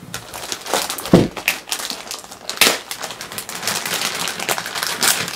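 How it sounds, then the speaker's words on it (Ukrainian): Plastic and cardboard packaging crinkles and crunches as a black HP Compaq Presario CQ58 laptop is unpacked, close and loud, with irregular rustling bursts and sharp crackles across several seconds and no talking. "Давайте розпакуємо наш ноутбук."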